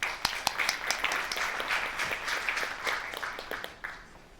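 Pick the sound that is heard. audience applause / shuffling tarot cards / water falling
audience applause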